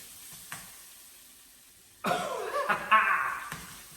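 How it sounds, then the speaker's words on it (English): Thai green curry paste drops into hot oil and bursts into a loud, crackling sizzle after a quiet start broken by a couple of soft knocks, the frying carrying on strongly to the end. "Get a nice sizzle going."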